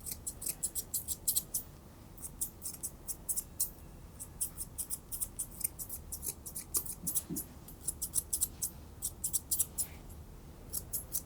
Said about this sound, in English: using the curved scissors on her fringe